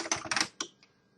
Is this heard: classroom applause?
no